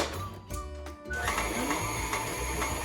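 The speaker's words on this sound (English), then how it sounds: "you want to cream your butter. So you just want to put this in your mixer. I have a paddle attachment here." Stand mixer with a paddle attachment creaming butter, a steady mechanical whir with a brief start-up stutter before settling into a continuous loud hum.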